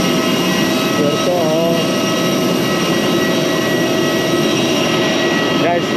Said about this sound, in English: This is Puerto Princesa Airport.